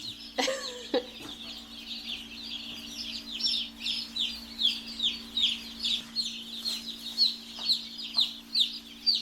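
Baby chicks newly arrived at a farm, a flock peeping in rapid high chirps that swell and fade in repeated bursts, close and fairly loud, with faint clucking and shuffling movement underneath and no talk.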